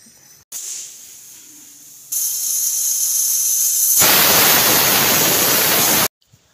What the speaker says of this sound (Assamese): এইফালে কুকাৰত মুঠতে 2টা চিটি আহিলে আৰু মাংস ষ্টপ।